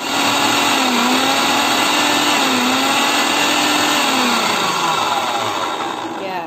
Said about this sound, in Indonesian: saya masukkan ebi dan bawang putih ke dalam chopper. Kita gilingnya sebentar aja, cuma beberapa detik.